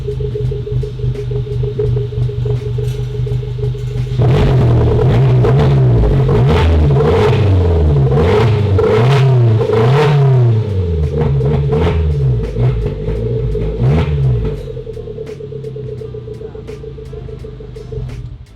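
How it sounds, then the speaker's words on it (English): Suzuki Jimny 4x4 fitted with a Forge Motorsport exhaust running on a single muffler: a steady idle rumble, then a series of loud, repeated revs rising and falling for about ten seconds before settling back to idle. "Let's start it up with only one muffler."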